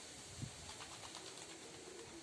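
A Kursk pigeon coos softly and low, close by, with a brief throaty swell near the start and quieter rolling murmurs after.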